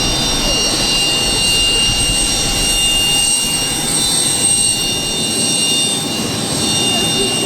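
Jet airplane at Vnukovo airport, a loud, steady engine roar with a high whine held throughout, close and continuous, with no break.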